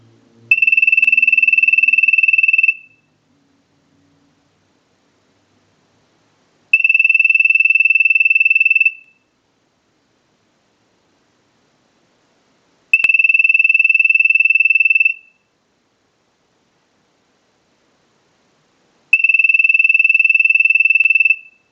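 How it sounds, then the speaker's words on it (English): An Ericofon North Electric telephone rings in four evenly spaced bursts from an analyzer's ring cycle, each about two seconds long with long silent gaps between, clear and close. "use the analyzer and send a ring cycle, like you were getting a call"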